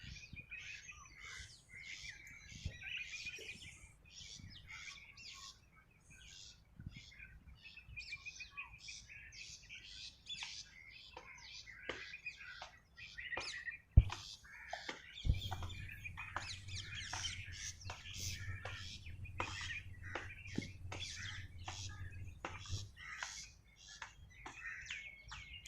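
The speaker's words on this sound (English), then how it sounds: "You can see the birds on that plant." Birds chirp and call among garden plants and grafted ficus in a steady scatter of short, high tweets, faint to moderate and fairly close, with a low hum joining partway through.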